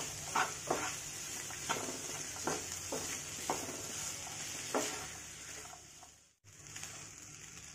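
Potato bonda masala with soaked dried peas being stirred in a pan, with a steady soft sizzle and repeated scraping strokes of the spoon, close and moderately quiet.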